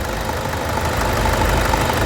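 A Tata Sumo diesel engine idles close by with a rough, steady knocking chug, loud and continuous throughout.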